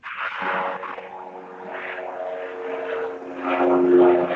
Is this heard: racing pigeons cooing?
no